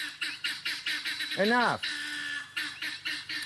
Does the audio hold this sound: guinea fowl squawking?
yes